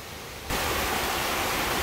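A steady, broad rushing roar of waterfalls near a bridge starts abruptly after a brief quieter moment and then holds constant and fairly loud, with no voices.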